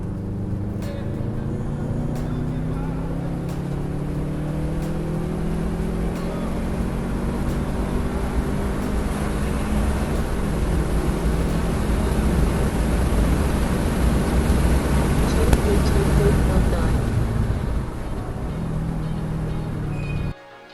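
A Subaru WRX fitted with a newly installed Mishimoto catch can drives on a test run. Steady engine drone and road noise hold throughout with rising and falling tones as it accelerates and shifts.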